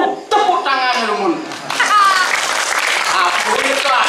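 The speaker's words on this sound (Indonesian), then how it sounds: "Tepuk tangan" Crowd clapping and cheering at a Balinese drama gong comedy show, a loud burst of applause mixed with voices, laughter and children's chatter from the audience.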